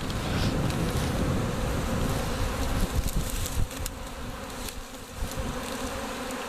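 A honey bee swarm drones loudly and continuously as the bees crowd into a box outdoors, a dense, unbroken buzz with individual bees flying close by.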